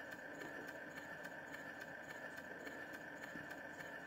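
A 1930s Philip Harris demonstration DC motor spins on very low voltage with a faint, steady whir, a fixed hum and an even ticking rhythm from the rotating parts, quiet and unbroken.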